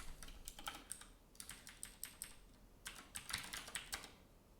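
Fast bursts of typing on a computer keyboard, clustered key clicks in several quick runs separated by short pauses, close and fairly quiet.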